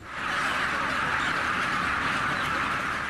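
Thousands of broiler chickens inside a crowded shed make a dense, continuous wash of clucking and chatter, a loud unbroken din with no single bird standing out.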